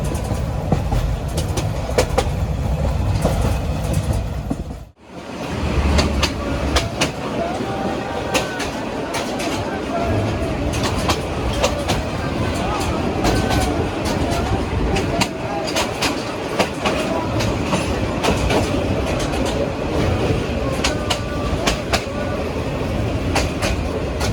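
The intercity Agnibina Express rumbles along the line from Dhaka to Jamalpur, a loud continuous rolling roar with faint wheel clatter that dips sharply for a moment before building back to a steady din.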